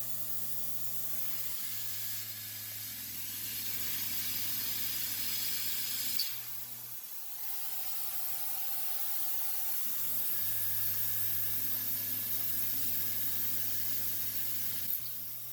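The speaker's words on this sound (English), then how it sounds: "let me drill those two holes" A drill whirs steadily into sheet metal in two long runs, with a high grinding hiss and a brief pause between them.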